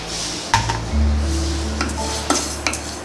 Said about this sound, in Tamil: அரிசி போட்டு நல்லா பொடி அரிசி மாதிரி வறுத்து எடுத்துக்கோங்க.